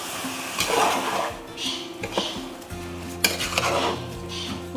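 Washed rice being mixed in a biryani pot with double beans, giving soft scraping and stirring sounds with occasional metallic clinks of a utensil against the pot, close and fairly quiet.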